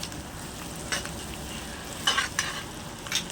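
Chicken salna masala sautés in an iron kadai over a medium flame, giving a soft steady sizzle broken by a few sharper scraping stirs of the spoon against the pan, with no voices.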